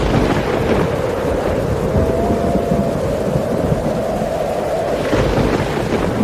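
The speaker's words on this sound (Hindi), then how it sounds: "घने बादल जमने के कारण लगातार 5 दिन से बारिश हो रही है" Heavy cartoon rain pours steadily throughout with deep rolling thunder rumbling underneath, a loud, continuous storm with no voices.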